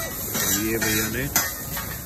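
Onion, capsicum, carrot and cabbage cooking in butter on a street-stall griddle for chowmein egg rolls, with a steady close sizzle and a metal spatula clinking once, under someone talking.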